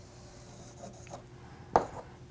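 A marker quietly sketches a cubic function graph on a board, making faint rubbing strokes and one short, sharper squeak near the end.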